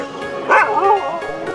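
A husky yips and whimpers in a short, high-pitched burst, close by, with a steady background hum and no talking.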